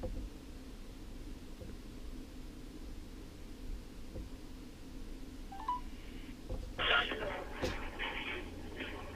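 A telephone number is dialed by hand, and a few faint tones stand out over hissy line noise, with low talk in the room.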